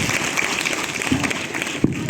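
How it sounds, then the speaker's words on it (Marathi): A school audience bursts into steady, dense applause right after a student's speech, with the clapping filling the room and voices mixed in. "एकदा जोरदार टाळ्या."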